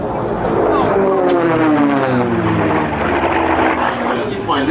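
Unlimited-class racing airplane roaring past at the Reno Air Races, a loud propeller drone whose pitch sweeps downward as it passes, with crowd and announcer noise mixed in.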